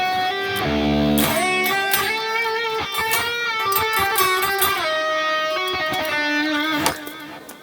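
Electric guitar lead played in a Phrygian dominant scale in a shred metal style, a bright sustained melody with bends over a dense band backing, loud and continuous for several seconds.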